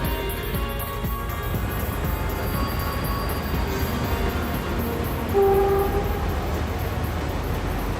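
A train in Algeria rumbles steadily, with rail noise throughout and a short horn-like tone partway through.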